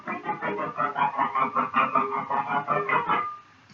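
Distorted electric guitar strings are struck repeatedly with the edge of a hand held like a saw, giving a rapid, choppy, buzzing run of about a dozen hits that cuts off sharply near the end, with no talking.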